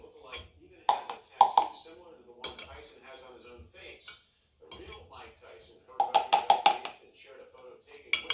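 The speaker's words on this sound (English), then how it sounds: "So I'm just going to scrape it off the top." Metal spoon scraping and clinking against a pot of chilled chicken broth, lifting off the solidified fat layer, in bursts of sharp clinks with scrapes, close up, with a voice talking between them.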